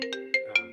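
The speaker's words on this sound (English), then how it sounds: "Sorry, that's my phone." A mobile phone plays a melodic electronic ringtone of short bright tones over a sustained chord, loud and close, with a brief word spoken over it.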